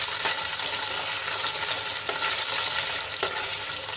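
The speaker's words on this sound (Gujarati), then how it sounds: "ફ્રાય કરી લઈશું આપણા ગુંદા થોડાક સોફ્ટ થાય ત્યાં સુધી એને સાંતળી લઈશું" Gunda (glue berries) fry steadily in hot oil in a pan, a continuous loud sizzle close up, with a few stirring scrapes breaking through, no voices.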